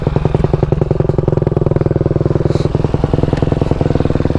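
A KTM SX-F 250 dirt bike engine runs steadily and loud up close, its rapid even firing pulses forming a continuous buzzing rattle that fills the whole stretch with no talk.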